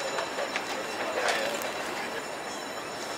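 Train in Antwerp, a continuous rumbling ride with faint metallic squeals and brief clanks, moderately quiet and steady throughout.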